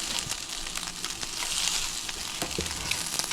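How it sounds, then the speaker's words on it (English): Plant-based bulgogi browns in a single pan with a steady, close, dense sizzle and crackle that carries through the whole stretch, with occasional stirring scrapes. "Let me just let this brown a little bit before I add my rice"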